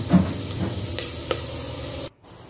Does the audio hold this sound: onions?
yes